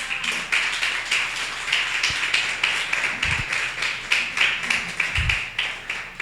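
A church congregation claps together in a steady, fairly loud patter of many hands, with a few sharper taps standing out over the continuous applause.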